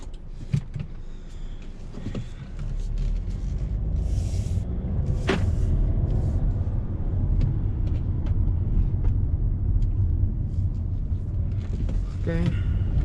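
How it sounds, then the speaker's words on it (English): Audi A4 2.0T with about 190 horsepower driving in automatic mode, heard from inside the cabin as a steady low engine and road rumble beneath someone talking throughout. "we're gonna go ahead and drive with the auto right now"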